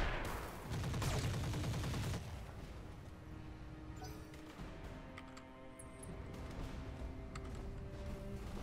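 Mech weapons fire in Roguetech, a loud booming volley at the start followed by a quieter stretch of rumbling, ringing tones and scattered sharp clanks.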